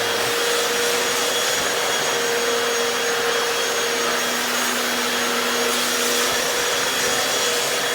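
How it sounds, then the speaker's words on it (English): A Hoover FloorMate Deluxe floor cleaner runs in dry mode with its brushes raised, giving a loud, steady close-up suction roar with a constant whine that holds unbroken throughout. "The dry mode will raise up the spin scrub brushes, so the brushes are raised up and they shut off, which allows the suction and the squeezing to dry the floor."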